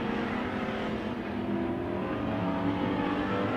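Race cars at Emo Speedway roar past the checkered flag in a steady, loud, continuous engine drone with no break, their sound blending into one sustained rumble.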